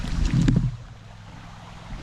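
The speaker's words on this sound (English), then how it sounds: "The creek is different." A creek flows in a steady, soft rush close by, with a brief bump of handling noise at the start and no voices.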